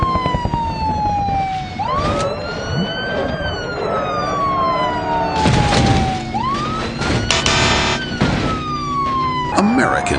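A police car siren in the driving game BeamNG.drive wails with long rising and falling sweeps, loud and continuous, with crashes and engine noise mixed in.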